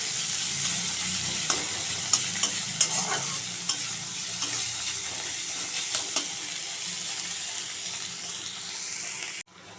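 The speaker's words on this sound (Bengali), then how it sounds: "পেঁয়াজটা একটু ভাজা ভাজা করে নেব।" Chopped onion sizzling in hot oil with black cumin in a kadai, a steady crackling hiss with a series of light spatula knocks against the pan, close and unvoiced, ending in a brief thump.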